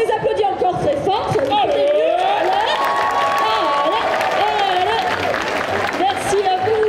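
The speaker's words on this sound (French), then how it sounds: "On les applaudit encore très fort." A crowd at a cosplay parade claps and cheers, applause mixed with whoops and excited chatter, while a voice talks over it.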